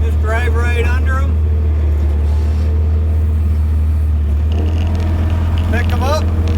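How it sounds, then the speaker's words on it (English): A skid steer fitted with homemade scrap-metal pallet forks drives under two tires to lift them, its engine making a steady, loud low drone while someone talks over it. "These 2 tires, just drive right under them,"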